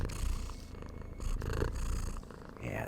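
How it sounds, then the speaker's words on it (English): A pet cat purring close up, a steady low rumbling purr with breathy in-and-out pulses, alone with no talking. "Can you purr?"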